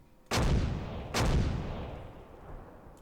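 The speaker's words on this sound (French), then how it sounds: "On reçoit de l'artillerie, bien sûr." Artillery fire in the video game Close Combat: two loud, heavy booms about a second apart, each trailing off into a long rumbling decay, with no talk.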